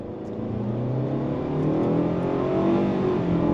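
Engine of a 2025 Mitsubishi Outlander Trail Edition SUV under throttle, a steady droning hum from inside the cabin that builds gradually as the vehicle accelerates, with rising tones suggesting simulated shifts.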